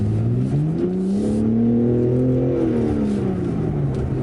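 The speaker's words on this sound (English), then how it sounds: "That's full throttle now." A BMW G80 M3 Competition xDrive engine at full throttle, with a steady loud drone whose pitch climbs and then eases back across a few seconds, heard from inside the car with no talking.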